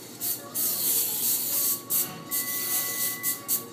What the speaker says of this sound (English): we're going to take our pans and then we're going to spray it.